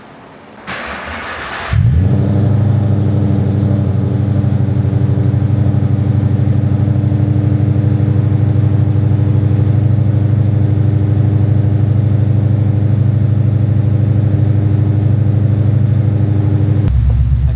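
Coyote V8 swapped into an SN95 Mustang, unstarted for three weeks, cranks and catches, then settles into a loud, steady idle that runs close and unbroken until it cuts off at the end.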